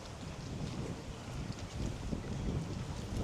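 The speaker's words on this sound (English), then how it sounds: "Ooh, it's windy today." Wind blows by a lake on a warm, sunny day, a constant low buffeting rush with gusty swells across the microphone and nothing else standing out.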